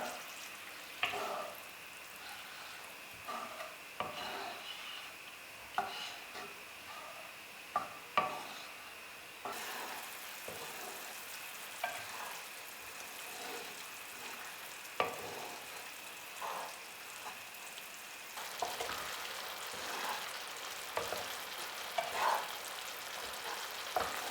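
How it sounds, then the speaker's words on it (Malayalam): Flattened rice flakes with jaggery syrup are stirred and roasted in a pan for Onam aval payasam, giving a steady soft sizzle with repeated scraping strokes of the spoon throughout, close and alone without talk. "ഇനി ഇതിലേക്ക് ശർക്കര പാനി ചേർക്കാം നമുക്കിനി ഇത് നന്നായിട്ടൊന്ന് വരട്ടിയെടുക്കാം"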